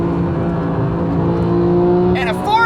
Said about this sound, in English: a 4-liter flat 6 engine that sounds like that